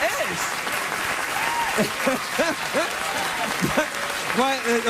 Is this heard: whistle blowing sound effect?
no